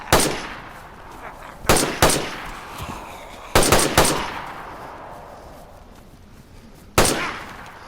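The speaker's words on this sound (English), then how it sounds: "When you shoot their legs out, they crawl." Gunfire in the video game DayZ: several loud, sharp shots, some in quick pairs, each trailing off in an echoing decay, with quieter gaps between and no talk.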